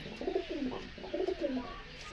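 Homer pigeons in a backyard pigeon loft coo softly and close by, a few throaty rolling phrases in a row against a quiet background.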